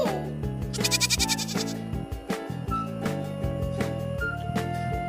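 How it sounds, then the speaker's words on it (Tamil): A goat bleats loudly in a wavering cry over background music with a steady beat. "ஆடு."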